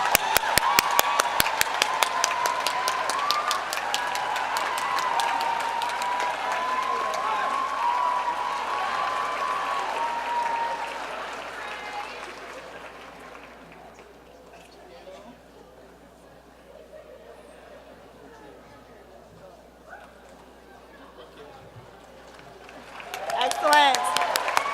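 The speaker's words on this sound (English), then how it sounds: "Please also stand and give him a hand clap" An audience at an evening recognition ceremony applauds an award winner with dense, sustained clapping and chatter that fades to a quiet murmur, then a fresh burst of clapping rises at the end.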